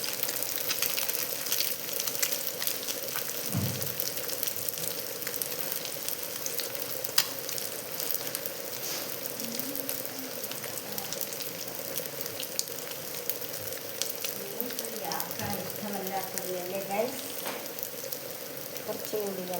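Fish sizzles steadily in hot oil in a pan with curry leaves, a continuous close frying hiss throughout, with a faint voice now and then in the background.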